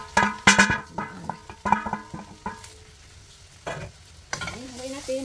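Chopped onion and garlic fry in butter with a steady sizzle, while a utensil scrapes and clanks against the pan in quick bursts close by.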